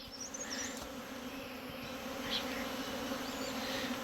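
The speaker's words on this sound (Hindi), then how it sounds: "ये देखिए पूरा झुंड आसमान में और मधुमक्खियों ने बैठना शुरू कर दिया है यहाँ पे।" A honey bee swarm settling on a shaded tree trunk, steady dense buzzing hum from many bees all around, close and continuous with no talk.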